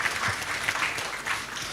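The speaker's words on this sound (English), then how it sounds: "Lord, clap for them also." Audience clapping at a town hall discussion on higher education, a steady patter of many hands filling the room for under two seconds.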